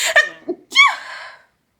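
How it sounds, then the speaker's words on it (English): A single close, sharp sneeze from one person, a quick inhaled catch followed by a bright explosive burst that fades within a second into silence. "I feel like I have to sneeze"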